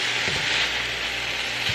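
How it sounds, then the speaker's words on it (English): Continuous loud sizzling of meat frying in a pan, with a few soft scraping stirs. "if you can hear me over the sizzling meat"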